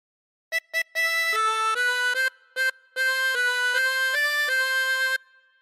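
Harmonica plays a melodic phrase alone, in clear sustained breathed notes: two short stabs, then longer held tones with brief gaps, ending with a soft fade.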